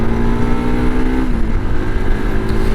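An RS 200 motorcycle rides along a main road, its engine droning loudly and steadily close by with a rising, then easing pitch, and no voices.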